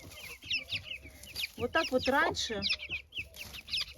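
Hen clucking with her chicks in a chicken coop, repeated short clucks and small peeps scattered through, with someone talking over them nearby.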